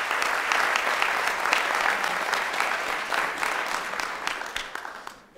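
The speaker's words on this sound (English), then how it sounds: "Can you all join me in a round of applause," A lecture-hall audience applauds the incoming medical school class, a dense sustained round of clapping from many hands that holds steady and then tapers off near the end.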